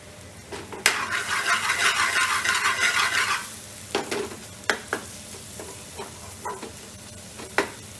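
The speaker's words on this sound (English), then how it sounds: "I just need the onions to sort of caramelize, become a little bit golden, translucent, soft." Onions frying in a pan for a vegan chickpea curry: a loud burst of sizzling while being stirred, then quieter sizzle broken by sharp utensil scrapes and clinks against the pan.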